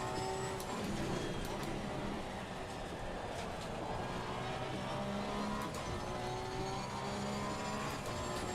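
A Porsche race car engine in Assetto Corsa Competizione drones steadily at high revs during practice at Zolder. The sound is constant and fairly loud, with shifting engine tones and a voice speaking over it.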